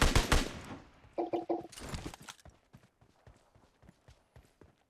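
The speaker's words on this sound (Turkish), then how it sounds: "Oradan silah sesleri duydum" A burst of rapid gunfire cracks up close in the video game PUBG Mobile, followed by scattered sharper shots and clicks that thin out into quieter, irregular pops.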